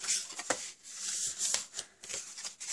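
Paper card stock being creased and folded by hand for a kinetic shutter card, a quiet run of crisp rustles and light taps close by.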